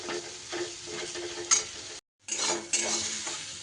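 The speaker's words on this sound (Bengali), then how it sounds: "একটু তেলের মধ্যে ডালটাকে বেশ ভালো করে নাড়িয়ে চাড়িয়ে ভাজা ভাজা করে নেব" Lentils frying in a little oil, stirred steadily with a spoon against the pan, giving a continuous close sizzle with scraping strokes and a brief break midway.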